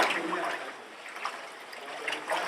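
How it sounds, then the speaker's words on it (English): Clothes being washed by hand in soapy water in Ghana, with soft, irregular sloshing, swishing and splashing, close and fairly quiet. "what I'm doing right now is I'm washing my clothes"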